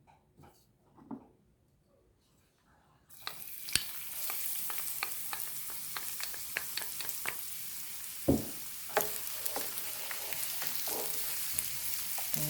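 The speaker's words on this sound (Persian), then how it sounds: "حالا برای اینکه سیر رو تفت بدیم" Garlic hitting a pan to sauté for Mirza Ghasemi: after a few quiet seconds a sudden steady sizzle starts and keeps going close by, broken by sharp clicks and stirring scrapes, with a faint dog whimper early on.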